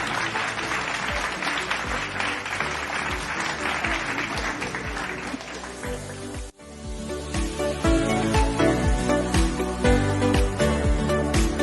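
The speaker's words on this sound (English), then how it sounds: "Can we have a great round of applause, please?" An audience at a chapter annual general meeting and award ceremony applauds steadily, with music playing underneath; the applause dips briefly midway, then the music swells louder with clapping still present.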